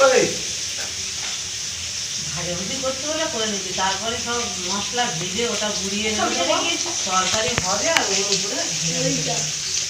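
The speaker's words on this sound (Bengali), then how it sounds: "এখন মাছ ভাজা হচ্ছে" Fish sizzling and hissing in hot oil in a pan, a continuous crackling fry with voices talking over it.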